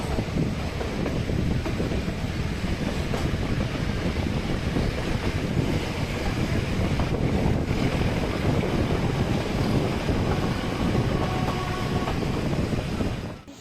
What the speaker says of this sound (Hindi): 6159 फीट की ऊंचाई चढ़ती है ये ट्रेन, और इसीलिए इसमें रैक और पिनियन सिस्टम है